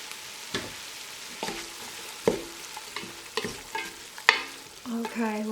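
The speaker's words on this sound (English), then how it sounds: "we're just going to get those onions in" Onions for chili sizzle softly in a pan while a utensil scrapes and stirs at an irregular pace, with close, clear strokes. No one speaks.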